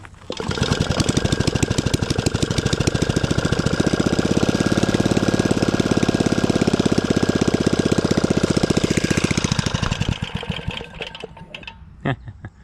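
A rare vintage Clinton model 350 small engine is pull-started and catches. It runs loud and close with a rapid, even chatter of firing pulses for about ten seconds, then sputters and dies.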